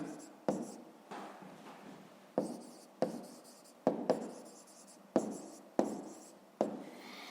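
Pen writing out a fifth-grade math exercise by hand on paper, heard close up as repeated scratchy strokes in short bursts with brief pauses between them.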